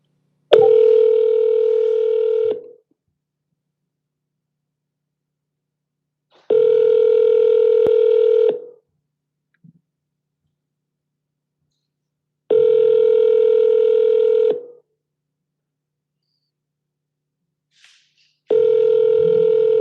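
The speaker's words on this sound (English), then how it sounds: "Let me try to call fucking Bashi, dude" Phone call ringback tone repeating in four long even rings, each about two seconds with roughly four-second silences between, clear and close with no voices.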